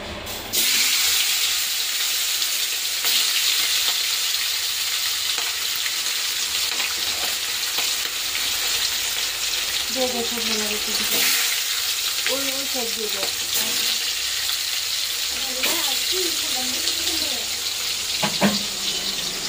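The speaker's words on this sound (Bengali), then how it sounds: "এখন ইলিশ মাছটা ভেজে নেবে" Hilsa fish fries in hot oil, a loud, constant close sizzle with bubbling and spattering, while faint voices are heard in the background.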